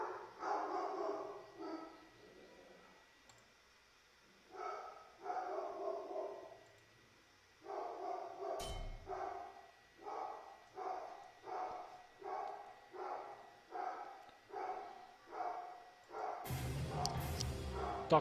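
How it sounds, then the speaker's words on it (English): A dog barks repeatedly at the opening of the action game Garshasp: The Monster Slayer, with steady, evenly spaced loud barks and a short gap mid-sequence, ending in a noisy burst. "Dog barking, that's the best way to start a playthrough of a mean game."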